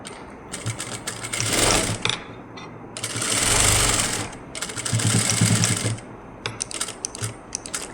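A sewing machine runs in several bursts of steady, fast, buzzing stitching along a blouse shoulder seam, pausing briefly between runs, close and clear with no talk.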